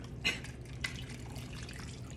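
A liquid strawberry cake mixture is poured over a Chicken Divan dish, giving faint, close wet trickling and dripping with a couple of soft splashes near the start.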